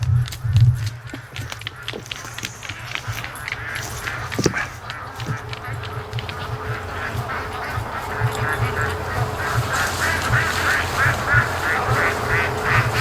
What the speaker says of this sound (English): Oh, the crazy ducks.